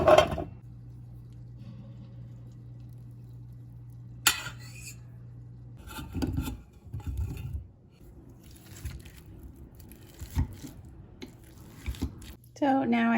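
Butternut squash seeds rinsed in a kitchen sink under a running tap, a steady low water flow with splashing, clinking and handling bursts, heard close.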